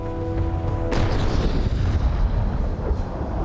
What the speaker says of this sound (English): the long-barreled cannon known as the culverin, or snake